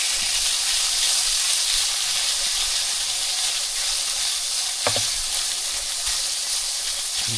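Chicken fried rice ingredients sizzle steadily in a hot pan, a loud continuous frying hiss with a brief crackle partway through and no voices.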